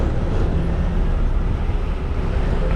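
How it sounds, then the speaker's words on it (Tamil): Steady broadband road traffic rumble around a stopped bus near the Kaladi river bridge in Kerala, a continuous dense wash of passing vehicles with no voices. "டிராஃபிக்காக இருக்குது, அதான் பஸ் நின்று போகுது"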